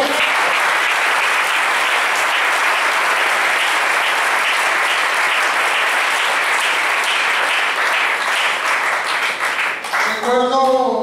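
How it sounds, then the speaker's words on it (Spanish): Loud, sustained clapping from a congregation at an annual church retreat fills the room for about ten seconds, then breaks off as a voice begins speaking. "Denle un aplauso a Dios."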